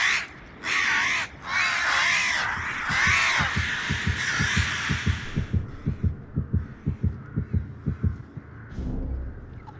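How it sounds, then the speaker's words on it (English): Illustrated crows in a video game flutter and squawk, a burst of harsh caws at first, then a quick run of rhythmic thumping flaps that fades out. "When a survivor comes within startling distance of an illustrated crow, they will become aggravated, angrily fluttering and squawking around violently."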